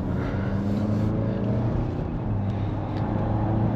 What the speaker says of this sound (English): It gets up there when I floor it